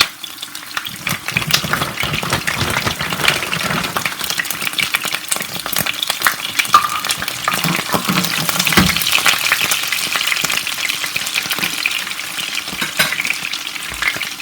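Bacon frying in a pan, being added alongside an almond-coated, bacon-stuffed turkey: a steady, loud crackling sizzle runs throughout with occasional stirring clatter, no talking.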